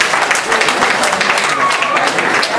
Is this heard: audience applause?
yes